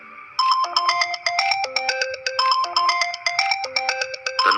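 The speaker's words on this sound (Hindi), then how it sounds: "थोड़ी देर बाद उसका फोन फिर से बजा।" A mobile phone ringtone plays as an effect in an animated story: a bright, repeating electronic melody of quick tonal notes, close and clear, with no talk over it.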